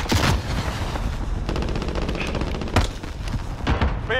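Video game gunfire in a trios battle royale match: bursts of rapid automatic shots and sharp single cracks, loud and close, filling about four seconds with almost no voice over them.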